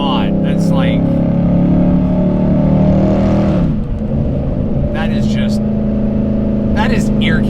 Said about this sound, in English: I love the rev matching in the Redeye. As soon as I downshift, you'll hear it.